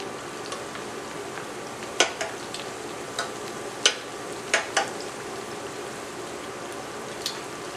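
Flattened plantain slices crisp up in a skillet during their second fry, giving a soft steady sizzle broken by scattered sharp pops and spatters, close by and with no talking.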